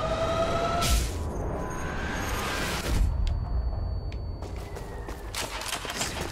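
Machine gun fire in Sniper Elite V2 rattles out as dense, rapid bursts with sharp individual cracks, loud and close, over continuous combat noise with no voices.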